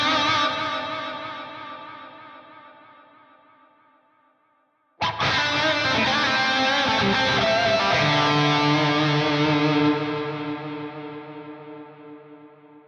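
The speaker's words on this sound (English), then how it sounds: "You are going to hear reverb on the delay repeats" An electric guitar chord rings and fades through a Fractal Audio AX8, then a loud strummed chord echoes in repeating delayed copies washed in reverb, slowly decaying into a lingering tail.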